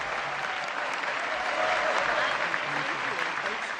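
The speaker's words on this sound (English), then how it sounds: "give yourselves a round of applause" A graduation audience at a polytechnic convocation applauds the class of 2026 with loud, sustained clapping from a large crowd, continuous throughout, with some cheering voices mixed in.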